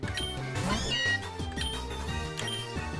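A cat-like Pokémon's cry in the game PokéRogue rises over busy game music with plucked bass notes, lasting about a second before the music continues alone.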